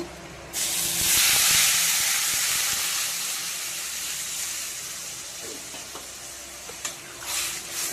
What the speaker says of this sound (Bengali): মশলাটা ভাজা হয়ে গেছে এবার আমি জলটা দিয়ে দেবো পরিমাণ মতো